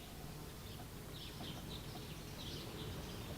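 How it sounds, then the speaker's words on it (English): Small birds chirp faintly in a garden, brief high tweets scattered over a steady background hiss, distant and soft, with no voices. "All sorts of birds have come to the listening corner garden"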